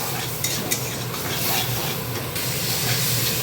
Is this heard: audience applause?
no